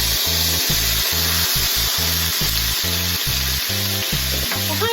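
About a tablespoon of sherry hitting a hot pan of shallots over medium heat, heard as a close, bright sizzle with a regular pulsing mechanical hum underneath and no talking.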